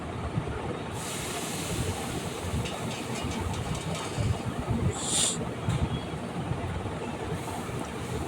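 Mustard and poppy seed paste with green chilli sizzling in hot oil in a pan, a steady dense crackle and hiss throughout, fairly close, with a brief brighter spatter partway through.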